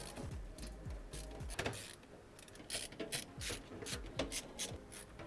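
Screwdriver driving screws into a gaming PC case, heard as a close run of small ratcheting clicks and scraping metal contacts, irregular and fairly quiet, with no talking over it.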